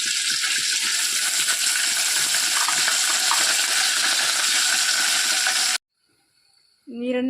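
Curry leaves dropped into hot oil for tempering dal set off a loud, dense crackling sizzle that holds for several seconds, then stops abruptly into near silence before a faint tone at the end.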